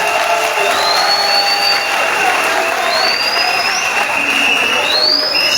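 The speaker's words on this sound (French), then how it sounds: "Applaudissez-les." A crowd at a Gabonese political gathering applauds and cheers steadily, a dense, loud wash of clapping with shrill whoops and whistles rising above it throughout.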